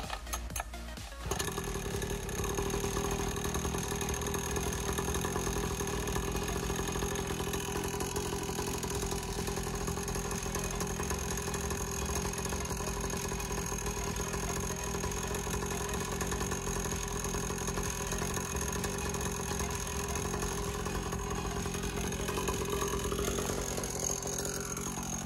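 A green 2023 Apollo Falcon 49cc kids' pit bike engine starts after a short rattle, then settles into a steady, fairly loud buzzing idle that runs on with no talking.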